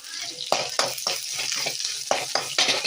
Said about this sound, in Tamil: அது கூட கொஞ்சம் கடலைப்பருப்பு சேர்த்துக்கலாம். கிண்டி விட்டுப்போம்.